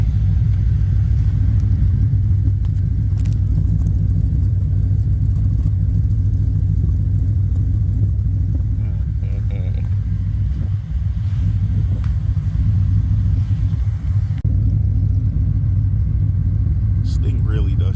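An LS-swapped BMW E36 idles on a cold start with a choppy cam, a deep, lumpy rumble that lopes unevenly, loud and close, holding steady throughout.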